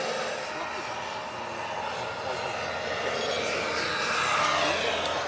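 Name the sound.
model helicopter turbine speeding up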